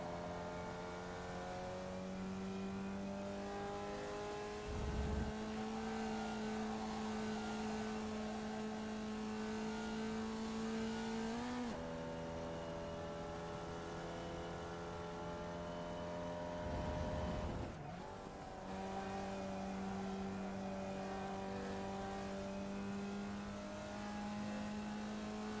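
A Formula Vee car in the iRacing sim drones steadily at Laguna Seca, its engine pitch climbing and holding, with a couple of sudden shifts or lifts as the note drops and builds again.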